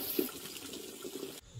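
Cold shower water runs steadily during bathing, a close, continuous hiss and splash that cuts off abruptly near the end.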